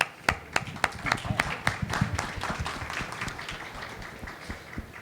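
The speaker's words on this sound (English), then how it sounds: "A round of applause." Applause for a commercial real estate tech panel. Sharp individual hand claps stand out clearly at first, then merge into a looser, fading round of clapping from a modest crowd.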